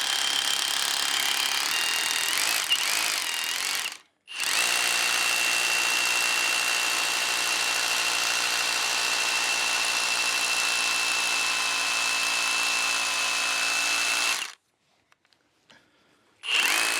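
A Harbor Freight Bauer 20V brushless 1-inch SDS rotary hammer drills into concrete with a loud, continuous hammering roar. One brief pause comes early, and the run ends with a longer stop followed by a few short bursts.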